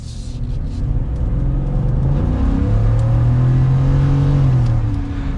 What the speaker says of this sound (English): But let's give it one more acceleration.